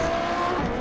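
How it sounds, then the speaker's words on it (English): Race car braking hard in a Hot Wheels video game, a brief burst of engine and tire noise with a faint squeal, loud and close, with no talk. "Whoa, good braking."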